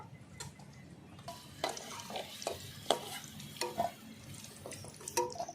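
Potatoes frying in hot oil in a pan, lifted out one by one during a chicken curry, with a low steady sizzle under repeated scraping and clinking of a utensil against the pan.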